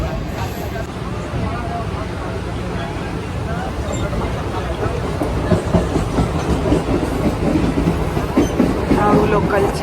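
A Mumbai local train runs along with a continuous rumble and rhythmic clickety-clack of the wheels, with a crowd of passengers babbling in the background.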